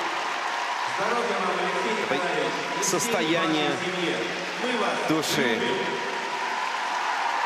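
Audience applause in an arena at the Russian figure skating Grand Prix final, a broad steady wash of clapping and crowd noise under a commentator's voice for most of the clip.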